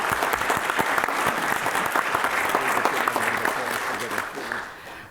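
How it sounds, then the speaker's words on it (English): Sustained applause from a conference audience at a James Webb Space Telescope town hall, dense steady clapping filling the room for about five seconds before tapering slightly at the end. "Now I'd like everyone to give these folks a round of applause."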